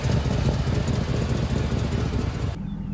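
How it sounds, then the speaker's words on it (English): A Chevrolet Silverado pickup idles close by with an exhaust leak, giving a steady, rough, loud engine rumble that runs continuously before cutting off abruptly near the end. "He's got an exhaust leak."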